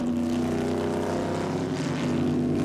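A Chevrolet Corvette V8 race car at speed during the Petit Le Mans sports car race, its steady loud engine drone holding for a few seconds with no gear changes.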